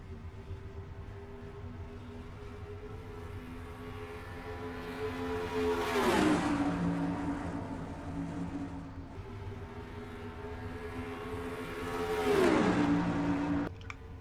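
Engines of stock cars in a racing video game drone steadily, swelling twice as cars rev and sweep past at the start of a 400-lap oval race, with no voices over them.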